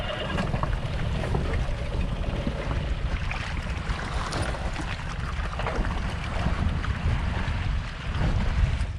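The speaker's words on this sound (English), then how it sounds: "I started up the outboard and clambered on board" An outboard motor drives a small boat across Loch Linnhe, a steady low rumbling drone mixed with wind buffeting and water splashing against the hull, continuous and fairly close.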